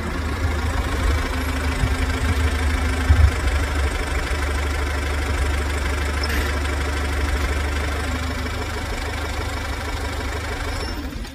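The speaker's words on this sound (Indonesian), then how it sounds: "terdengar suara motor berhenti di depan rumah" A motorcycle engine idles steadily up close with a low, throbbing rumble that holds for about eleven seconds, with no voices over it.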